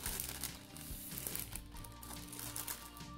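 A plastic bag holding parts of a 1/35 scale King Tiger tank model kit crinkles and rustles steadily as it is opened, close and faint, under a constant music bed.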